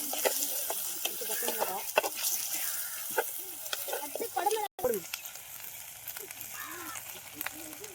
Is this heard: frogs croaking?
no